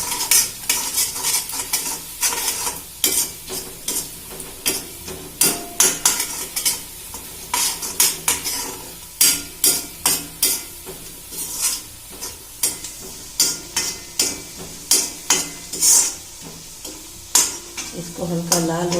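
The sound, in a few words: stirring and frying poha ingredients in a pan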